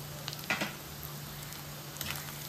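Egg curry with tamarind leaves fries in a pan with a soft, steady sizzle and a few faint stirring scrapes, quiet and close.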